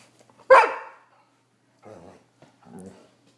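A dog gives one loud, close bark, followed by a person speaking quietly in the room.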